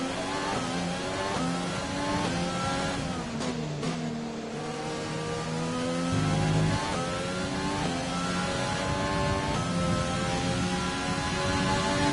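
A Formula 1 race car engine in the F1 2020 video game screams at high pitch, its tone rising through the gears with brief dips at shifts, loud and continuous under racing conditions at a Dutch circuit.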